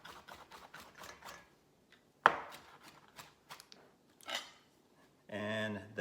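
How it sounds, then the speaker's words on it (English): A knife mincing fresh parsley on a cutting board gives quick runs of sharp chopping taps under intermittent talk, with a brief louder knock partway through. "Work on the parsley here. So just gonna mince this up as well."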